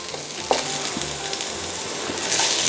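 Shallot, ginger, coriander root and celery sizzle steadily in a pan of oil, a continuous close frying hiss with a few stirring scrapes and a slight swell toward the end; no one speaks.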